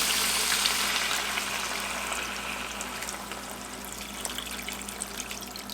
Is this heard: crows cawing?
no